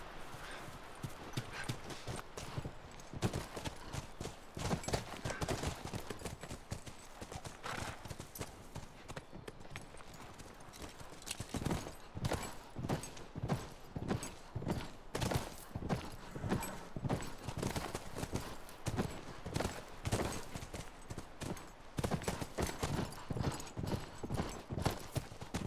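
Horse hooves clip-clop steadily in The Last of Us Remastered, a continuous rhythmic stream of footfalls, close and fairly quiet, carrying on for the whole stretch with no talking.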